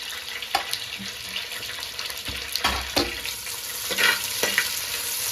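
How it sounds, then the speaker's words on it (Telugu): Onions and green chillies with curry leaves fry in a pan, a steady soft sizzle with intermittent scraping stir strokes, close and without talk. "కొంచెం లైట్ గోల్డిష్ కలర్లో వచ్చేంత వరకు ఇట్లా వేపుకోవాలి ఫ్రెండ్స్"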